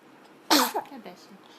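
Baby giving a single quick sneeze up close, followed by brief soft voice sounds in a quiet room.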